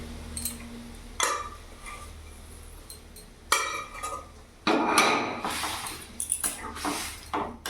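A metal spoon scrapes and clinks against a pan while boiled chickpea dal and banana stem are mixed in hot oil, irregular knocks and clatters rising louder toward the end, with no talking.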